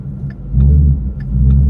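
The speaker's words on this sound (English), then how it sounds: "Yeah, I got a truck coming." A truck passes on a road beside a guardrail, and its rumble builds into a loud, close, low roar with faint ticks over it.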